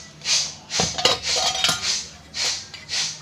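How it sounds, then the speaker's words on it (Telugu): A metal saucepan set down on a stove, giving several ringing clanks and scraping knocks in an irregular series, close and fairly loud, with no voices. "సాస్ ప్యాన్ పెట్టుకున్నాం."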